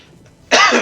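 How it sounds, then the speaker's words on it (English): A single sharp, loud cough from one person, bursting suddenly out of near silence and cutting off quickly. "Sorry, I'm coughing here."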